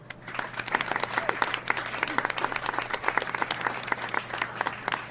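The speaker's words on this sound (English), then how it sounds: "give a big round of applause and stay wide awake for Professor Manson" An audience applauds as a professor is welcomed to speak at a talk on sleep and exam success, with dense, lively clapping from a roomful of people and a low steady hum underneath.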